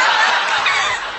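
A parrot imitates a chimpanzee with a loud, harsh, chattering burst lasting about a second, with no talking.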